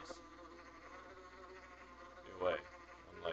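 Bees from Minecraft buzz faintly and steadily in the background, with a couple of louder passes near the end as one swoops close.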